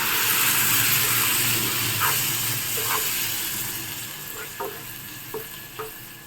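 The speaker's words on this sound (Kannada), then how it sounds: "ಈಗ ಇದಕ್ಕೆ ನಾನು 1 ಕಪ್ ಆಗೋಷ್ಟು ನೀರನ್ನ ಹಾಕ್ಕೋತಾ ಇದ್ದೀನಿ" Garam masala fries in a pan as water is poured in, giving a loud steady sizzle and hiss that gradually fades, with a few light stirring clicks near the end.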